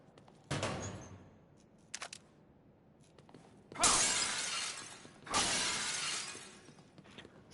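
Glass smashing in The Evil Within video game, a short sharp shatter burst followed by two longer, louder crashes of breaking glass with scattering debris, no talking.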